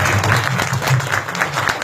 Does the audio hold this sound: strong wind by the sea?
no